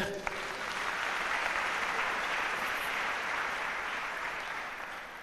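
Church congregation applauding, a broad, even patter of many hands clapping throughout, fairly distant and soft, with some voices blended in.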